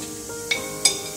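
Cumin frying in hot oil for palak paneer, a steady soft sizzle with two brief sharper crackles, close and fairly quiet with no talk.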